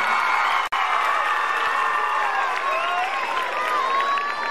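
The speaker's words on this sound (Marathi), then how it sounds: "पुन्हा एकदा जोरदार टाळ्या" A school gathering of students and guests breaks into loud applause mixed with cheering and children's shouts, a dense crowd roar that holds steady throughout.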